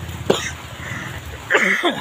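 A single sharp cough bursts out early, followed after a pause by a brief throaty vocal sound, close to the listener.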